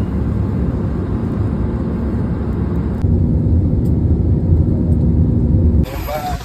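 Cabin roar of an airplane taking off on a flight to Hong Kong, a steady broadband rumble that swells louder midway and then drops off near the end.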